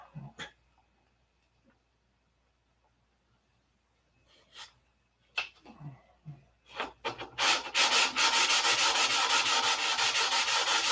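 Epoxy fillets on a boat build are hand-sanded to remove shiny spots, starting with scattered scrapes and a cough, then building to loud, rapid, continuous rubbing strokes up close.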